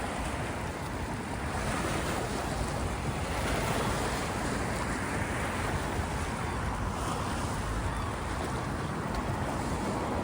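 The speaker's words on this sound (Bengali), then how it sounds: "রোডের একেবারে কাছেই যে পাড়, ওই পাড়ে চলে আসছে পানি" Sea waves surge and wash continuously against the shore at Southend beach at high tide, a steady loud roar with wind buffeting the microphone throughout and no voices.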